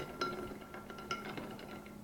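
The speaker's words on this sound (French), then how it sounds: "Mets les glaçons dans le pot." Ice cubes dropped into a pitcher while making watermelon lemonade, a run of light, bright glassy clinks at a moderate close level with no talk.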